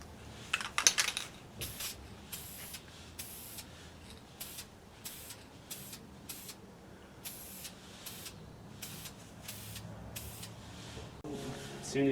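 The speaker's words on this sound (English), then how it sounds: "now we're going to spray a little VHT high temp primer on it and put a little paint on it" Short hissing bursts of a VHT high-temperature primer spray can coating a masked engine part from a 1951 Ford flathead, repeated in an irregular series of sprays over quiet shop background.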